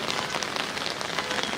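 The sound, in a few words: heavy rain pouring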